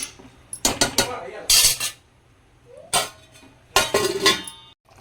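Mutton curry in a pot being stirred with a metal spoon, giving several clinking scrapes against the pot in short bursts, followed by a lid set down with a clatter; close and fairly loud, no talking.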